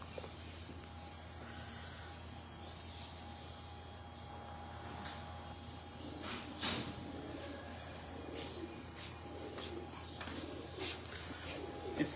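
Faint pigeons coo on a rooftop in Lahore against a low, steady background hum, with a brief louder rustle partway through and a few soft ticks.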